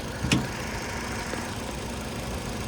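A 2012 Toyota RAV4 engine idles with a steady low rumble, left running with the keys removed, with a brief clunk near the start and no voices over it.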